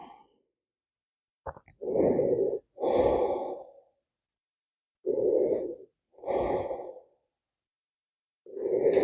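Slow, deep yoga breaths at rest, each long inhale and exhale loud and close, separated by short silent pauses.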